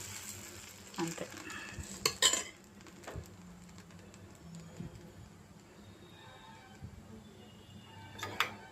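Dosa batter spreads over a hot pan with a faint, steady sizzle, broken by sharp clinks of a spoon or ladle against the metal.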